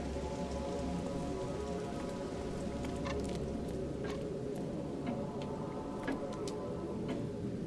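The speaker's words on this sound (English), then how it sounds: "The rain is still pouring outside." Steady rain pours down outside in the game Fatal Frame: Maiden of Black Water, a dense even hiss with scattered drip ticks and a faint clock-like tick, with no voices.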